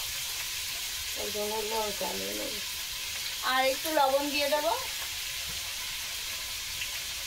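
Food frying in a pan with salt and turmeric gives a steady, soft sizzling hiss throughout, while a voice speaks in two short bursts over it.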